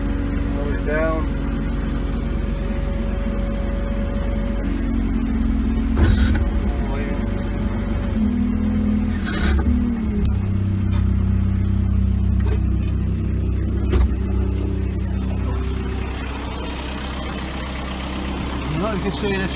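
Combilift C4000 forklift with a low idling engine hum and mechanical creaks and hydraulic shifts as the forks move down, steady throughout, with someone speaking over it.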